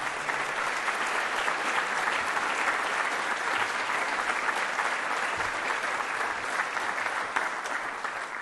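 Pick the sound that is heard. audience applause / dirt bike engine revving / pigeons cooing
audience applause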